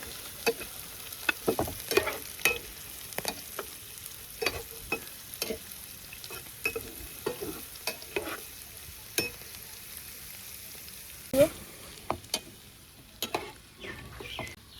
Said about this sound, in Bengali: সুন্দর মতো বাদামি কালার করে পেঁয়াজ রসুনগুলো ভেজে নিব